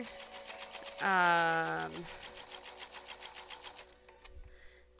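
A computerized sewing machine hums and whirs in a rapid buzzing rhythm while a quilt is being sewn, with one louder, higher-pitched burst near the start, and someone talks briefly nearby.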